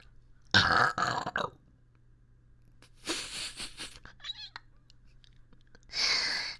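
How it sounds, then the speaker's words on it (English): Several short, wet burps come in separate bursts, close to the microphone in a quiet room, with faint vocal sounds between them. "my burps smell like tangerines right now"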